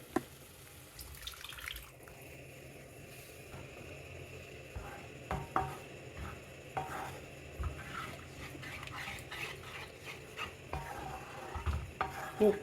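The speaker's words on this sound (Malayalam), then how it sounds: "ഇനി ഇതിലേക്ക് നമ്മൾ വേവിച്ച് വെച്ച പരിപ്പ് ചേർത്ത് കൊടുക്കാം." Cooked lentils are added to a simmering dal curry in a pan and stirred. Wet slops and light spoon scrapes tap out an uneven rhythm over a soft background hiss.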